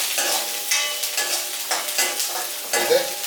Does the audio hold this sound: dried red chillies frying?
yes